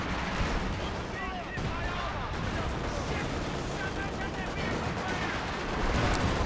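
Land Mattress rocket artillery in Company of Heroes 2 salvo-firing over a dense, continuous battle din, rapid overlapping launches and blasts with no pause, growing slightly louder near the end.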